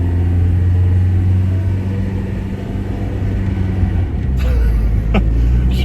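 Steady, loud engine rumble of a Ford XR6 Turbo ute cruising at speed on a freeway, a constant low drone with road noise throughout and no talking.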